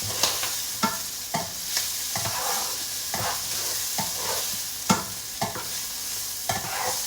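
A utensil stirs and scrapes chicken, bacon and omelette mixture around in a sizzling frying pan, with repeated knocks against the pan over a constant crackling fry, close and fairly loud.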